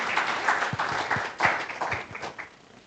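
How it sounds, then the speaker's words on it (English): An audience at a democracy index launch claps for a professor, a modest burst of scattered hand claps that thins and fades toward the end. "Kindly a better round of applause for Professor."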